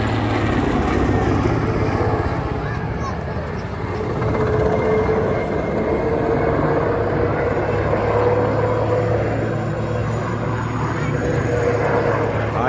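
A loud, steady engine drone from a helicopter overhead stays constant throughout, with people talking faintly beneath it.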